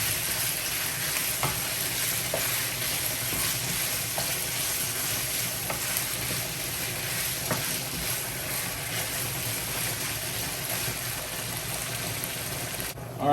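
Beef sautés in a hot pan for beef and broccoli, giving a steady, dense sizzle and fry hiss that runs nearly unbroken, with faint occasional stirring bumps underneath.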